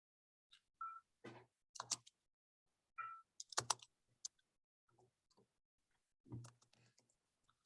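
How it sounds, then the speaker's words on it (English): Sparse typing on a computer keyboard during a Zoom call, short clusters of quiet clicks and taps separated by pauses, faint and close with no talking. "Okay, so Trish, you should try typing in the document now as well."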